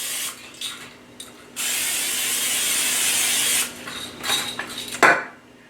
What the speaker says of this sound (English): I just do some cooking spray.